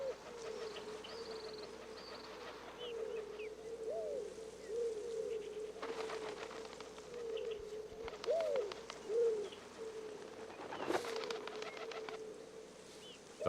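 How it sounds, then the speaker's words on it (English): A white-crowned pigeon coos in the Florida Keys, soft repeated calls over a constant low hum, with faint other birdsong and a brief rustle in between. "The white-crowned pigeon nests in the Keys and nowhere else in the United States."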